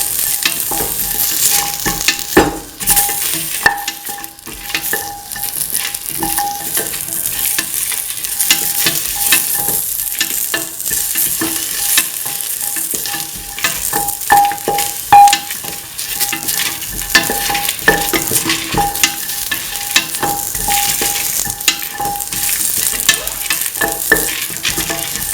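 Carrots sauté in a hot pan with a constant bright sizzle, while a utensil stirs and scrapes through them in irregular clinks, close and loud throughout with no talk.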